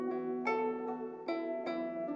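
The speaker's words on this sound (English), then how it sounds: "Some type of string instrument." A Chinese string instrument sample plays a short melodic phrase of about five plucked or bowed notes. The tones are bright and harmonic-rich and come one after another in a clear, moderately quiet passage with no voices.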